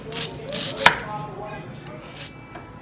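Knife chopping sweet potato on a board, a few sharp distinct cuts in quick succession, close and fairly quiet, with a brief pause between strokes.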